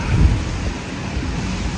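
Steady rain pours down at a bus stop, a dense, loud, even hiss with low rumbling underneath and no voices.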